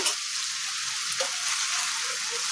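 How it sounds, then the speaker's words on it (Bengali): Bitter gourd fry being stirred in a hot pan, a steady bright sizzle of frying with soft scraping stir sounds running throughout, close and continuous with no talking. "এখন এই ভাজিটাকে নেড়ে দিব একটু।"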